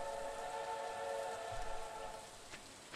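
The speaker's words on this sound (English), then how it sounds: "A train is passing through Stardew Valley." Train passing through in the video game Stardew Valley, a steady low rumble with sustained whistle-like tones holding throughout, fairly faint and distant, with no voices.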